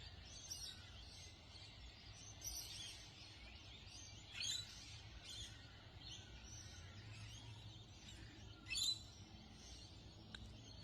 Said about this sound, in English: I've been listening to the morning song of the birds.